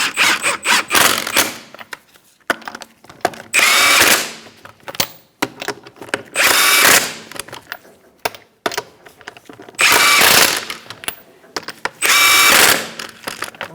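A power tool runs tightening the wheel lug nuts on a 2004-2009 Mazda 3, four loud close bursts of whirring and hammering, each about a second long, separated by quiet pauses and small clanks.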